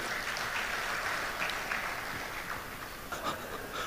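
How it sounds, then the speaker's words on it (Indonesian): An audience applauds at an event, a dense, steady wash of clapping hands with a few louder individual claps standing out, continuing for the whole stretch. "Tepuk tangan buat Bapak Ibu sekalian."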